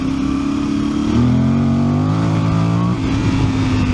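Voge 800 Rally motorcycle engine revving loud and close in second gear, pitch stepping and stuttering as the traction control cuts power, with no one speaking.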